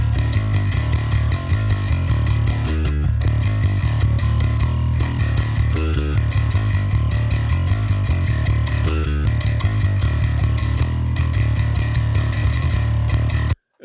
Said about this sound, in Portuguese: Esse aqui é o som do baixo processado na mix.